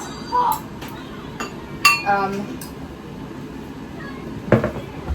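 Soup is ladled into bowls for the twins in a home kitchen on Christmas, with a few sharp clinks of a ladle and cutlery against dishes spaced apart and some background chatter.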